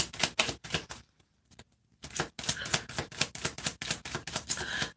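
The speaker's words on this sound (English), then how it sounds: "we'll get shuffling here and see who joins us." Tarot cards are shuffled by hand at a live reading in a rapid series of crisp riffling bursts. A short pause interrupts them before the quick, close, papery flutters resume.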